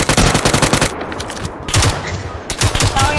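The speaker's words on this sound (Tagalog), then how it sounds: "Ang baril yun" Loud, rapid bursts of automatic gunfire in the PUBG video game crackle close up, broken by two short pauses before the shooting resumes.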